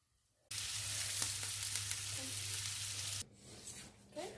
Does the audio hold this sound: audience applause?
no